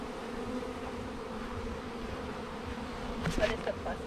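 A swarm of bees buzzes close by in a steady, low, continuous drone, with a brief louder rustle and hum near the end.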